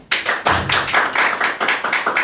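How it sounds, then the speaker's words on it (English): Audience at a talk in Kenya claps in a quick, rhythmic burst of sharp, close hand slaps, a steady patter of individual claps lasting about two seconds with no voices. "Can we have a quick clap for him?"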